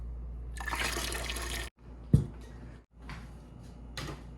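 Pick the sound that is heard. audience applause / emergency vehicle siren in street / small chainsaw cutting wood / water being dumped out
water being dumped out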